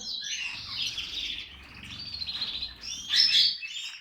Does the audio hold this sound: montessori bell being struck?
no